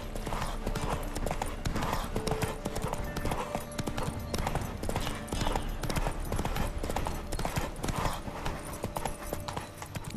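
Rapid rhythmic hoofbeats of a galloping horse in The Witcher 3: Wild Hunt pound steadily throughout, with a faint voice briefly audible beneath the clatter.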